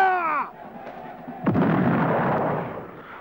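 A musket and cannon volley at a Sealed Knot battle reenactment of the 1970s Battle for Warwick Castle: a fading shouted command, then a heavy, booming burst of massed gunfire that rumbles on and slowly decays outdoors.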